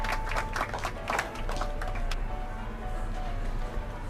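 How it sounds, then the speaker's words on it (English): Crowd applause rings out in a scene of the Back to the Future video game, moderately loud clapping at first that thins and fades, with a low steady hum underneath. "How about a round of applause just for the heck of it?"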